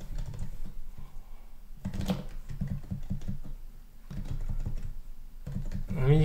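Typing on an HHKB Professional Hybrid Type-S keyboard, a soft, muted patter of keystrokes in quick irregular bursts, heard under a person talking.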